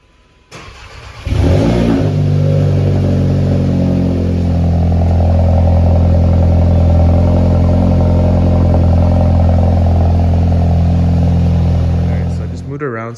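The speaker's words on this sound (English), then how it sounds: "one of the first performance mods, which is this Mbrp cap exhaust. So here's a proper cold start." Volkswagen MK7 GLI with an MBRP cat-back exhaust firing up from cold: a short starter whir and a sharp catch, then a loud, close, steady idle rumble that holds until the end.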